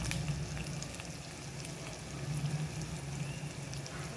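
Mendu vada deep-frying in hot oil over a low-to-medium gas flame, giving a steady, even sizzle that holds unbroken and fairly close, with no voices.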